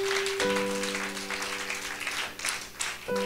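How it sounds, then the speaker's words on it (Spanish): A church congregation applauds during an Apostolic assembly service, a sustained wash of clapping with a held organ or keyboard chord underneath, the chord breaking off briefly and returning near the end. "denle ese aplauso a nuestro Dios"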